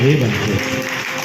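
A devotional bhajan crowd at a Goga shrine gathering bursts into a short round of vigorous clapping, heard together with a voice over the applause.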